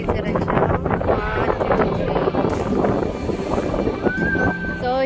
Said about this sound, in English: unfortunately it's so windy today and they have shut down the place